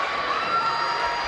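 Student crowd cheering at a boys high school basketball game in a gym, a steady, fairly loud wash of distant shouting and cheers with no single voice standing out.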